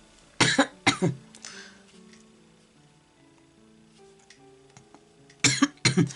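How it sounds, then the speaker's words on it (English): Two separate bursts of coughing, each a quick pair of harsh coughs, with a quiet lull between them and faint background sound. "Each time I get a cold, I feel like I get a cough."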